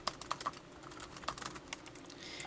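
Keys clatter on a Celio REDFLY C8N laptop-style keyboard in a quiet room, with a few sharp, irregular clicks and softer taps in an uneven rhythm, no voices.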